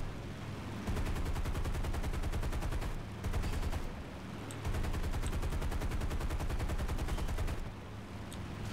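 Nose-mounted .50 cal machine guns on an aircraft in War Thunder fire long, rapid bursts, loud and close, separated by brief pauses under a constant engine drone.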